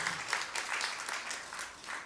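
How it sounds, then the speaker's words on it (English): An audience at an International Women's Day event applauds steadily for about two seconds, a dense and fairly distant clapping with no speech over it. "Can we clap hands for that?"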